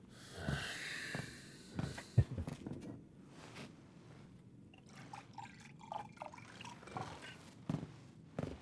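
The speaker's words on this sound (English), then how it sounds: "Those water sounds, though." Water in Final Fantasy XVI: scattered faint drips and splashes with soft pouring textures, irregular and quiet, alone against a low ambient background.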